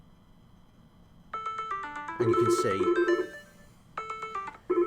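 Phone ringtone set off by the button on a Cross Peerless Trackr pen, a bright melodic electronic tune playing in repeated bursts, loud and close, with a person speaking briefly alongside it.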